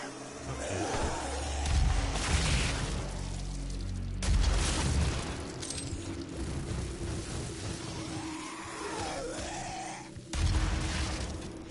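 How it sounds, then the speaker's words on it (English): Deep booming explosions in DOOM on PS4, a few heavy thuds and rumbles amid the game's sound effects and background noise, moderately loud. "Impressive explosion"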